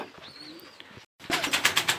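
A pair of imported Firozpuri pigeons, male and female: soft, low cooing comes first, then after a short gap a louder run of rhythmic wing flaps or fluttering close by.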